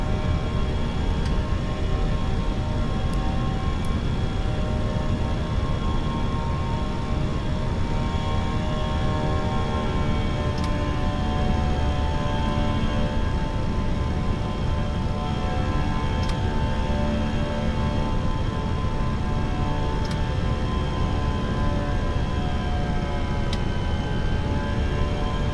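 Airbus A320 jet engines spooling up during pushback in a flight simulator, a steady loud broadband roar with sustained whining tones and occasional faint clicks, continuous throughout with no voices.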